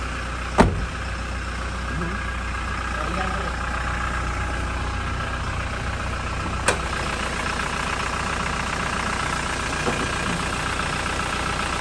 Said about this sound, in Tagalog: Normal rin yung tingog sa iyahang makina.